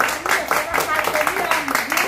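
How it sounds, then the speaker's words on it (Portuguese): A small group of people clap during a farewell for a cleaning crew in a freshly cleaned family home, brief, close, with voices talking and cheering over the clapping. "Vovó Maria de Porto Alegre, receba as nossas palmas!"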